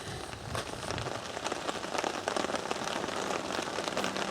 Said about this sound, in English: by the sound of the rain on the bivvy.